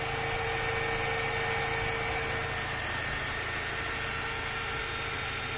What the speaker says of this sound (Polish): teraz będzie słychać silnik